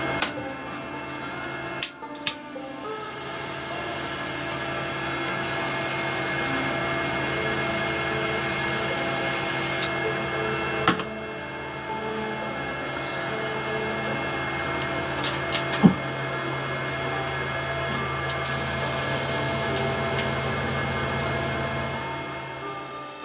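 A gem faceting machine polishes an Asscher cut gem, giving a steady whirring motor hum with a thin high whine and a few sharp clicks, running continuously up close.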